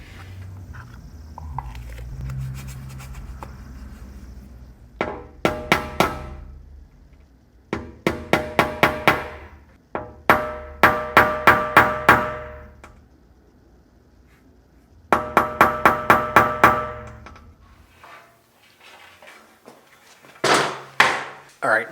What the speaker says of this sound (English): I think I'm gonna tap at this with my center punch now